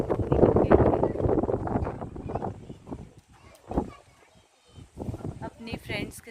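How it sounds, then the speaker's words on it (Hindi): Gusty wind buffets the microphone in rough bursts while a person talks close by, the rumble dropping away in short lulls. "बाहर ना इतनी तेज़ हवा चल रही है"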